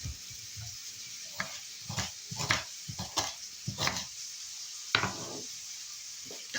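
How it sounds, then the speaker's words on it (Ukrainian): Rabbit meat sizzles in a hot frying pan while something stirs and scrapes it at irregular intervals, close and moderately loud, with no talking. "Поки м'ясо смажиться"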